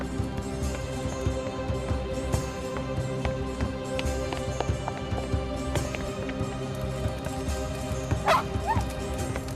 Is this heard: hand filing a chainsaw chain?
no